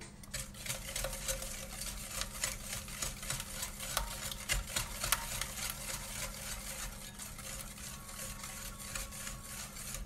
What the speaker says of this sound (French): on va mélanger les œufs, le sucre, de l'huile,